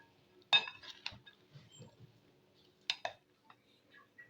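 Utensils toss an Italian salad in a bowl, giving a few sparse clinks and taps of metal against the dish, quiet and close, with short pauses between strokes.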